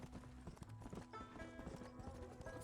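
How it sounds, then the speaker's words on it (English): Horse hooves clip-clop steadily in Red Dead Redemption, a rhythmic stream of hoof beats mixed into dense game music and ambience, with faint voices underneath. "I'm gonna get on my horse."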